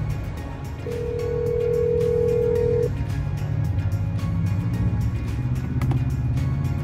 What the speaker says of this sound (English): We'll do a quick phone call.